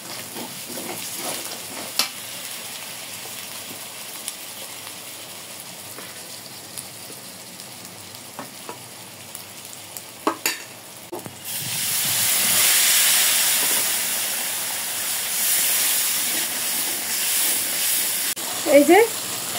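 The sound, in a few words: masala of ground cumin and coriander sizzling while being sautéed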